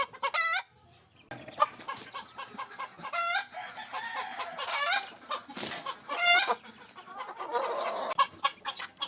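A hen cackles loudly and repeatedly after laying an egg, with other chickens clucking nearby in a rural yard. The calls come in uneven bursts with brief pauses.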